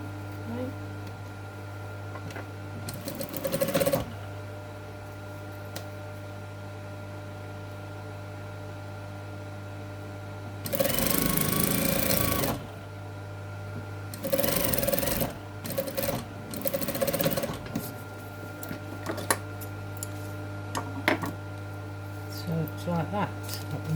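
A sewing machine stitches piping onto a box cushion in short bursts, a steady electric hum running underneath with brief handling noises between the runs.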